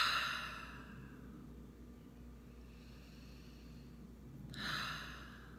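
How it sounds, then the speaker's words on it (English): A deep breath drawn in and let out during a guided relaxation: a soft, airy inhale at the start and a slow exhale near the end, quiet and close with stillness between. "let's just take a deep breath here"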